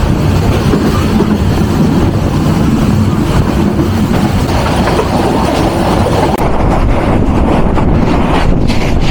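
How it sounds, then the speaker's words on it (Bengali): Rangpur Express passenger train hauled by a locomotive rushing past at speed on a Bangladeshi line, a loud, continuous roar of wheels and rattling carriages with wind buffeting, rhythmic clatter building toward the end. "রংপুর এক্সপ্রেস দেখতে পাচ্ছেন কি তাণ্ডবটাই না চালাচ্ছে অল মোটর লোকোমোটিভ পেয়ে"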